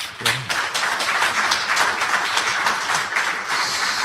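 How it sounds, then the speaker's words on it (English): Sustained applause from an audience at a book launch, a dense even patter of many hands clapping throughout, steady and fairly loud without pauses. "Please give him a clap."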